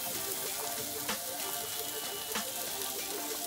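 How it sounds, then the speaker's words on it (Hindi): Mixed vegetables, carrot, capsicum and broccoli, frying in a pan for cheese masala Maggi: a steady close sizzle and crackle with a couple of brief stirring scrapes. "तो हम इसे अच्छे से फ्राई कर लेंगे"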